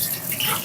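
Tap water runs in a kitchen sink while raw chicken pieces are washed, a brief, close, steady splashing stream.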